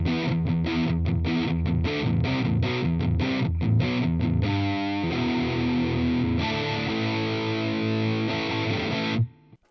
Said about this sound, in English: this is what the distortion on its own sounds like.